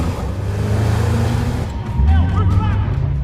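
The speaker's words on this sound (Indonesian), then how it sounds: "Setelah itu, ia pun melarikan diri menggunakan mobil satu polisi." A police car engine drives away in a film scene, a steady low rumble that swells louder toward the end, with a voice talking over it.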